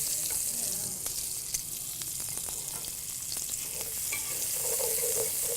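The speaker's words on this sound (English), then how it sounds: "Can you all smell the onions cooking?" Onions frying in bacon fat in a pan, a steady close sizzle with occasional crackles and stirring scrapes, no talking.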